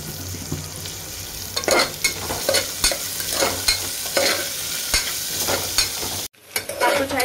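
Sliced onion fries with ginger garlic paste in a pan, sizzling steadily while a utensil stirs and scrapes in repeated strokes, close and clear, ending with a brief gap and a few more stirs.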